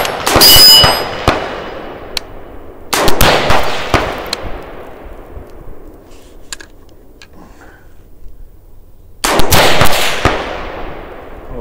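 Shots from a KB32 weapon system on a range ring out as sharp metallic clangs off a steel target, several bursts of loud bangs and pings separated by quiet gaps, each strike followed by a ringing decay.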